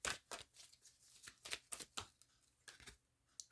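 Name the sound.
shuffling tarot cards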